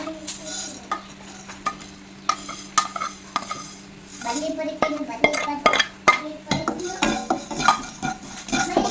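Pepper, fenugreek and cardamom dry-roasting in a pan, with dry rattling, scraping stirs and light clinks of a utensil against the metal, close and moderately quiet under occasional speech.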